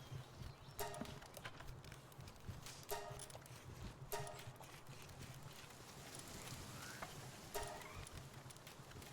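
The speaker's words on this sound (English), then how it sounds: "There's the horse." Horse hooves clip-clopping in the video game Palworld, a steady run of soft, moderately near hoofbeats over a low ambient game bed, with a few brighter clustered strikes standing out.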